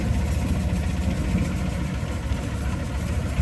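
A steady low growl comes from a speedboat engine with a loud silencer at a Bangkok floating market, close and unbroken throughout the short stretch, with no one speaking.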